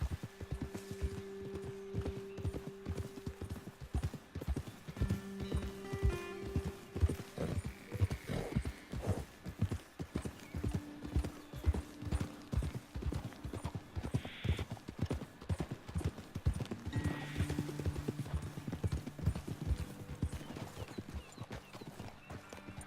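Steady clip-clop of horse hooves at a walking pace in Red Dead Redemption 2, with soft snorts and occasional whinnies, rhythmic and moderately close.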